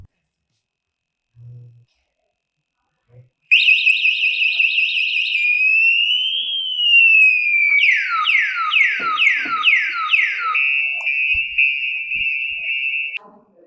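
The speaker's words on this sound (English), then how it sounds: "Just by touching it a little, it already beeped and said, look, I'm beeping." After a couple of soft taps, an electric bike's anti-theft alarm blares: rapid beeps, a rising tone, then a repeating warbling siren, loud and close.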